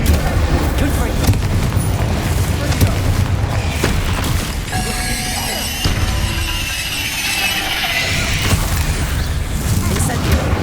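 Spell blasts from Bombarda, Incendio and Confringo in Hogwarts Legacy, a dense, continuous roar of booming explosions and crackling fire with shimmering magical tones in the middle, loud and close throughout.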